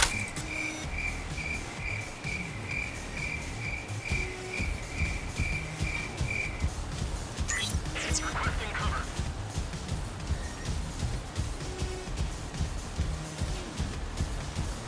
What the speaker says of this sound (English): Alright, let's bring on the crickets.